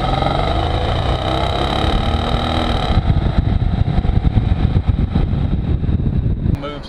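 A 1998 Suburban accelerates hard with loud, sustained engine roar, rising in pitch before shifting into a rougher, pulsing drone as the truck pulls away, close and dominant throughout.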